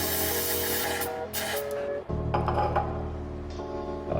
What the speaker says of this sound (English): just spray it in both ends of the fork